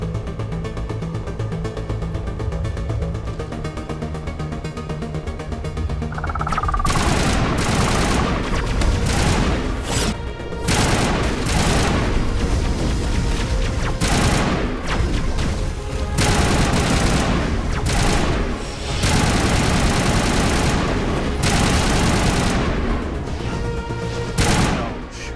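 Sustained loud automatic gunfire from friendly fire in the video game Mass Effect 1 on Ilos, continuous bursts with a few short gaps over a steady background.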